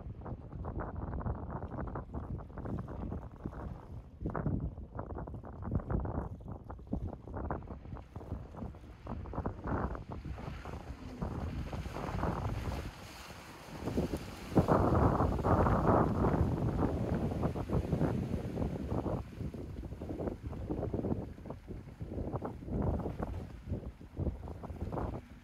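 Redbay Stormforce 7.4m RIB powered by a Hyundai 250HP Bravo I X diesel running on open water, a steady rumbling engine drone mixed with rushing water and heavy wind buffeting the microphone, surging louder midway through.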